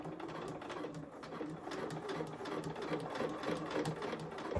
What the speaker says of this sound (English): Whilst I'm sewing, I'm just going to gently make sure that that lining fabric is just pulled away from the seam